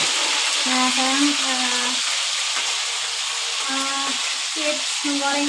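Steady loud sizzle of fish frying in hot oil, a bright crackling hiss throughout, with occasional tonal squeaks from a pan or utensil.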